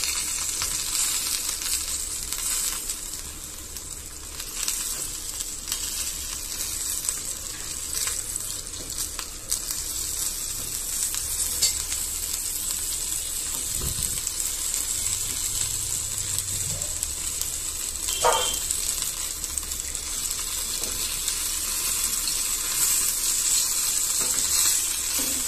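Hilsa fish patori wrapped in lotus leaf fries in a pan, giving a steady soft sizzle that runs throughout, with an occasional faint clink and scrape of handling.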